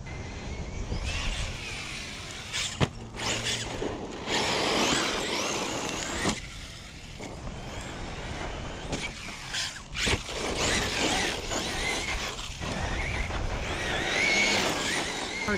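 A Traxxas Sledge RC monster truck with an M2C Racing reverse motor mount and Hobbystar 4092 1480kv motor runs outdoors, its electric motor whining and surging loudly and continuously, with tires scrabbling over terrain and brief drops and bursts of throttle.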